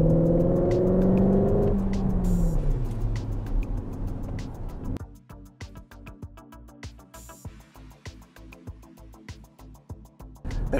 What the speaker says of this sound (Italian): non appena si va a premere di più con il piede sul pedale dell'acceleratore si ha una spinta e soprattutto un sound che in modalità Cupra è ancora più